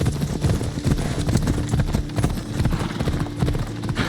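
Horse hooves clip-clopping in the video game Assassin's Creed Odyssey, a steady, loud, fast trotting rhythm that continues throughout, close and prominent, with no speech over it.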